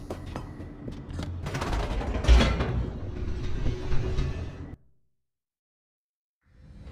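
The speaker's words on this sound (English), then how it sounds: "The elevator raced downward, plummeting towards an unknown fate" An elevator descending in the video game The Stanley Parable, a loud rumbling, clanking rush with a sharp metallic jolt partway through, then cutting abruptly to silence before faint noise returns.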